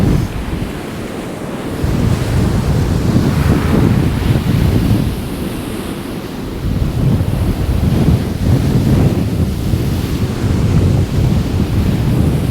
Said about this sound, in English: Absolutely blown a hoolie.